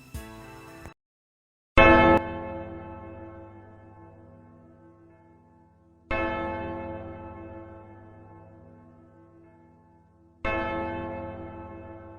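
A deep bell tolls three times at slow, even intervals at a Chernobyl disaster remembrance, each stroke ringing out and fading into a long resonant hum, preceded by a brief high shimmer.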